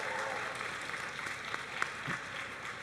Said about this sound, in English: round of applause for our masters